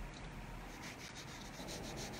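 Steady, close rasping of rough sandpaper rubbed back and forth along a scissor-cut edge in millinery work, a continuous gritty scratching with no pauses.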